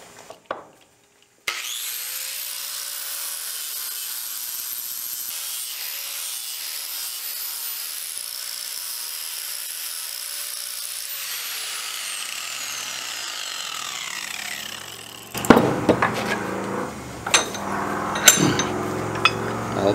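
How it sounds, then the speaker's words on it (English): A flap disc on an angle grinder grinds an aluminum fabrication part clamped in a vise, a steady loud abrasive whine held for about twelve seconds before winding down, followed by clanks and handling noises. "we'll just toss it the vise here and hit it with the flap disc."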